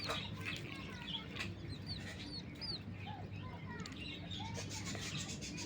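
King quail chicks peep faintly, with many thin high chirps scattered continuously over a low steady hum.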